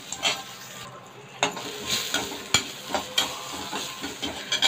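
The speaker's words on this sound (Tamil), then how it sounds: "இதை வந்து 1-5 நிமிஷம் நல்லா வதக்கிட்டு வந்துடலாம்." Ginger, garlic and green chillies sautéing in a pan, a continuous close sizzle with rhythmic stirring strokes and scrapes of the utensil, no voices present.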